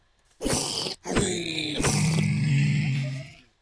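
A zombified piglin in the Minecraft video game gives several drawn-out, guttural groans with short gaps between them, loud and close, and no one talks.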